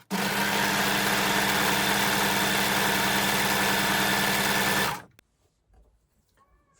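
An overlocker runs a rolled hem along sleeve fabric, its blade disengaged. The machine whirs fast and steadily at close range for about five seconds, then stops abruptly, followed by faint handling noises.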